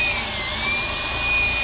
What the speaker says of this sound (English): why don't you just hook up a drill?